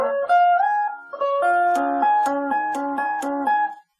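The top tapped part of a song's intro plays on guitar, with the right hand bouncing between notes on the second string. Quick, ringing tapped notes repeat in a bouncing cycle, close and alone.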